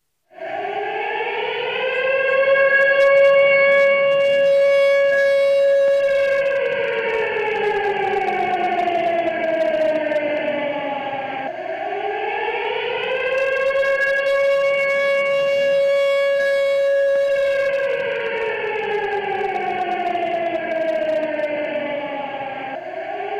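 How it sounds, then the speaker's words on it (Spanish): Memorial sirens wail at the appointed hour for the AMIA commemoration, two long rising and falling civil defense siren cycles, loud and sustained throughout. "las sirenas a la hora señalada"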